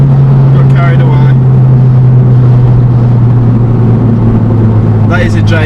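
A car fitted with a Jay's Racing aftermarket exhaust rumbles loudly and close at a steady, deep drone throughout, with brief bursts of higher noise near the start and end.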